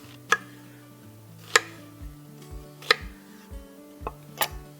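Big chunks of onion dropped into a pan around an eye of round roast, a few sharp, separate knocks and taps spaced about a second apart, close and fairly quiet, with low hums and clinks between them.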